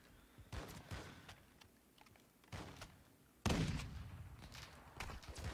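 Gunfire rings out in a video game: several short bursts of shots, the loudest near the end, over a low battle ambience.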